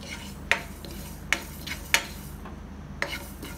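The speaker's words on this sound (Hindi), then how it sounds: "देखिए, तिल भून रहा है।" Sesame seeds dry-roasting in a pan give off a few sharp, separate crackles and scrapes, spaced irregularly over a steady low background hum.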